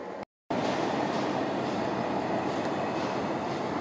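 A southbound train departs Clifton station, rumbling steadily along close by, a dense continuous roar of wheels on rails after a brief cut to silence, with no voices.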